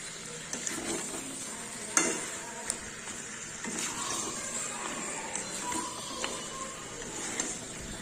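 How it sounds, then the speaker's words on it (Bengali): Mutton curry frying in a pan at home, with a soft continuous sizzle under scattered scrapes and knocks of a stirring utensil, close and fairly quiet. "এই দেখো মাটন রান্না হচ্ছে"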